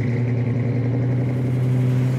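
A car with a 396 crate engine idles loud and close with a deep, steady throbbing rumble through the untuned exhaust, rising slightly in a mild rev.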